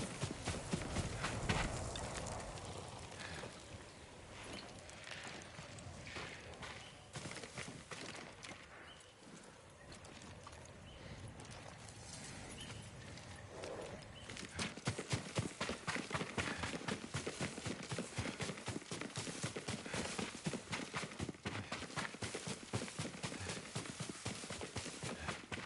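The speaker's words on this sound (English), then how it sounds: "Yuriko's horse. She can't be far." Horse hooves thud in a fast gallop in the video game Ghost of Tsushima, a dense rapid clip-clop that runs through the whole stretch and grows louder and more regular in the second half.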